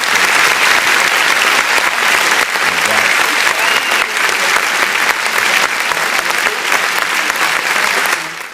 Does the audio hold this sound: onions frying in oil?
no